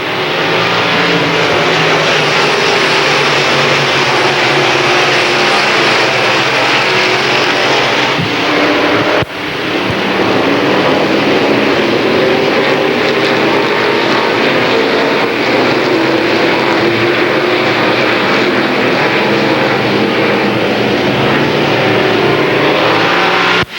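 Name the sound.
limited late model race cars on final lap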